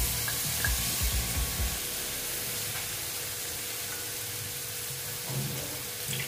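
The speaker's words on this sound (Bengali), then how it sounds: "পোস্ত বাটিটা ধুয়ে জলটা দিয়ে দিলাম" Rinse water from a bowl of ground poppy seed paste poured into a hot pan of frying dal posto, a steady hissing sizzle with a few soft knocks at the start and near the end, no voices.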